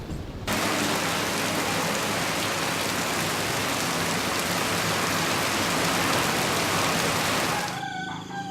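Heavy rain pours steadily on a late evening in Quế Phong, Vietnam, a dense, loud and unbroken hiss that cuts off abruptly near the end.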